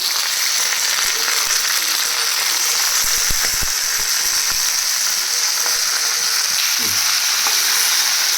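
Chicken pieces fry with softened onions in a pan, a loud, steady sizzle running throughout with a few scraping stirs and clinks near the middle and a brief thud toward the end.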